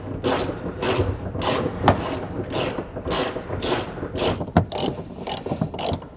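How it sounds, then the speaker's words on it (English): A socket wrench with a 21 mm socket ratchets in quick, close bursts as it loosens the spare tire winch nut on a 2018 Nissan Pathfinder, with a low engine idling underneath. "So we're going to take a 21 millimeter socket and begin loosening that."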